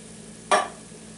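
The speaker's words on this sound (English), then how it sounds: "Mix it together to make a roux." A roux stirred in a pan, a single short scraping swish of the spoon through the thick mixture, close and brief against a quiet kitchen background.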